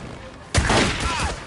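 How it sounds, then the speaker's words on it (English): A single loud burst of gunfire from the video game Days Gone erupts after a quiet moment and rings out with a lingering rumble, while a voice is heard underneath. "Shoot his tires!"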